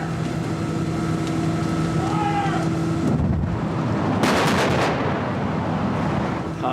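A dragon's breath fire effect on a film set bursts midway through with a sudden roaring whoosh that lasts about a second before fading. Before it, a loud steady mechanical hum and wind noise fill the set.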